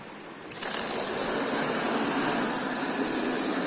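Pelton turbine fitted with a 4mm nozzle in a micro hydro setup at 41m head, a steady loud water rush and whirring that jumps in abruptly, then holds a continuous hiss with a high whine throughout.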